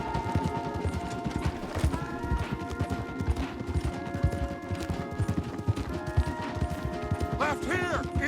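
Horses gallop hard in Red Dead Redemption 2, a steady dense clatter of hooves during a fast ride, with faint game voices over the drumming.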